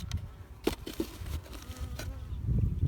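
A low, steady buzzing of honey bees close by, with a few soft taps and knocks over the hum.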